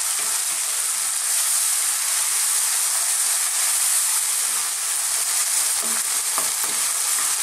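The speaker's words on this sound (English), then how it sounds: "we just want to cook these onions and all these spices on this kind of quite high heat" Onions and spices fry over quite high heat for an Indian dal, giving a loud, steady sizzle and hiss throughout with occasional stirring scrapes near the end, and no talking.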